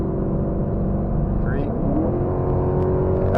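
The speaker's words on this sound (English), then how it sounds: "That's going to accelerate faster than I want to go." A Maserati GranTurismo fitted with a drive-by-wire module pulls away on a test drive, its engine droning steadily and rising in pitch under full throttle, heard from inside the car; a voice talks faintly over it.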